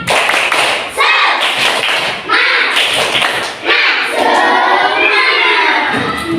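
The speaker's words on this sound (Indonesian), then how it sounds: "Mari kita tepuk semangat" A primary-school class performs a rhythmic spirit clap in unison, loud patterned bursts of clapping and thumps separated by brief gaps, with children's voices chanting and shouting over it.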